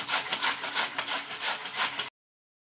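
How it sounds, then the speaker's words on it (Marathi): Peeled beetroot being grated by hand on a grater: quick, close, rhythmic rasping strokes, about ten in a row, stopping abruptly into silence. "अशा प्रकारे आपलं हे बीट किसून झालेलं आहे।"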